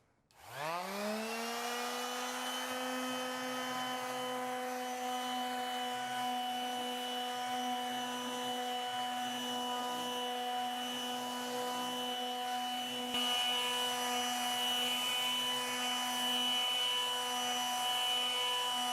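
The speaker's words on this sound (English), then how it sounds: "Once I turn my sander on, I'm just going to run it back and forth along the surface until the stain is completely removed." Electric sander spinning up and then running steadily as it strips old stain off a wooden dresser, a loud continuous whine with strong harmonic tones that stays even throughout.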